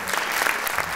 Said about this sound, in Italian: per le quali vi chiedo un bellissimo applauso